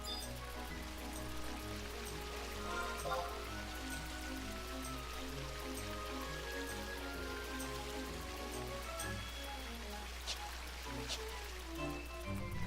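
Steady, even rushing of a waterfall in Final Fantasy XI fills the scene as a continuous hiss, with a low hum and faint pulsing game ambience underneath and no talk.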